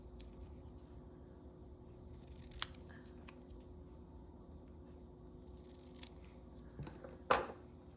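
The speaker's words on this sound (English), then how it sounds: "I'm just gonna cut right at the edges." Scissors snip through a small red paper label in a quiet craft space, a few light crisp cuts ending in one sharper, louder snip near the end.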